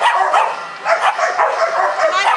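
Max the dog barks and yips in quick, close, loud repeated bursts, with a whiny edge and no pause across the short stretch.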